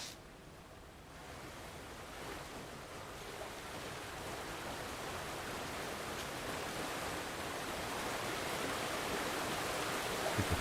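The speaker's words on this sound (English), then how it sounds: "Behind the waterfall, too," A waterfall in the video game GreedFall pours in a steady, dense rush of water that fills the scene, holding even and unbroken and swelling slightly louder toward the end.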